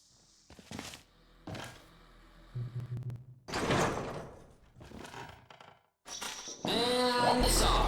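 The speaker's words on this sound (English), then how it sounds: "Oh, the door. Let me get that for you." A sliding door in the game Aperture Tag opens with a sequence of thunks and mechanical clunks, then a low hum and a bright rising whoosh of the door mechanism, close and fairly loud.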